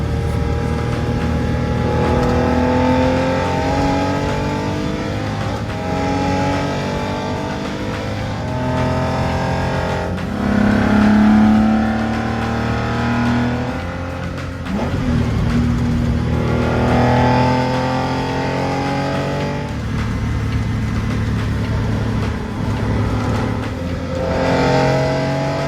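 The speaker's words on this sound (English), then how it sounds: "has plenty of power, runs like a bear in a cat suit, and is quite enjoyable to drive on the local roads as well as on the highway" A 1965 Porsche 904 GTS engine drones steadily at highway cruising speed, loud and close, its pitch rising and falling gently with throttle and gear changes, accompanied by constant road and wind roar with no talking.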